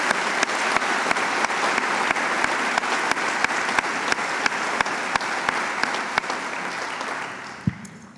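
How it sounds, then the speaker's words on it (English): Steady applause from an audience at a university fall convocation, a dense, even patter of many hands clapping for several seconds, gradually thinning toward the end with a few sharp isolated claps standing out. "And let's give them another round of applause."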